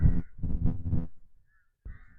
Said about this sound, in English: Okay, I can confirm that it is rooks.